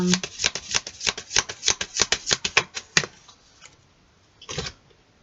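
Tarot cards shuffled by hand for a reading, about a dozen quick crisp riffling flaps in a steady rhythm, close and clear, then a pause and one last brief shuffle.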